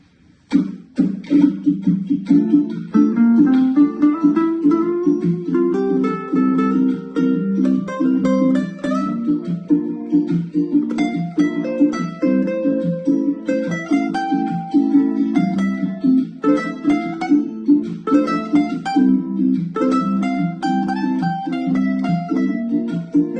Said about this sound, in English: And now I can show you how a solo could be sound on these chords.